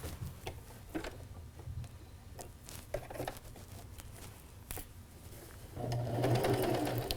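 A sewing machine runs in short bursts while stitching a peace-themed bag, pausing between runs and switching between forward and reverse stitching, then ending in a louder, steadier run.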